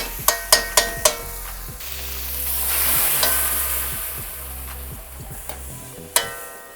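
Mala paste being stirred together with fresh ramen noodles in a hot pan, a steady sizzle and scrape of frying with a few sharp clanks of the utensil against the pan at the start and near the end.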